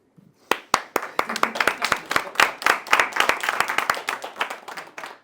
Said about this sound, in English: Everyone claps and we've got a round of applause